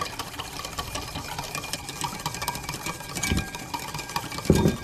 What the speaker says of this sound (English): add a little bit of oil, keep whisking